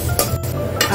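Dry coconut and onion roasting in a pan give a short burst of scraping stir strokes over a light sizzle, close and fairly loud, with no voices.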